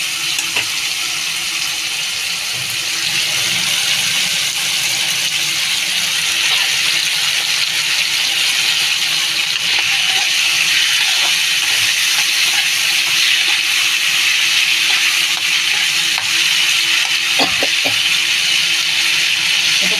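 Spices fry in a pan for a Bengali raw chickpea curry, a steady loud sizzling hiss that runs throughout with faint clinks of utensils.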